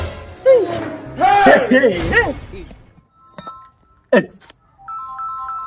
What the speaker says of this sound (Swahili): Simu yenyewe inapigwa tena.